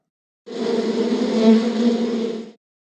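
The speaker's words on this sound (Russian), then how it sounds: "Пчела." A bee buzzes steadily for about two seconds, a close, droning hum that starts and stops abruptly against silence.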